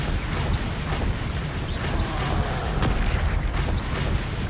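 Spell effects from Incendio and Arresto Momentum in Hogwarts Legacy land in dense, continuous booming combat noise, with repeated low thuds and bursts packed together at a steady loudness.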